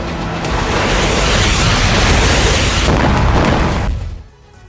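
A missile strike on a military convoy near the border in the Russia–Ukraine war: a loud, sustained roaring blast with rumbling debris that holds for about four seconds, then drops away abruptly.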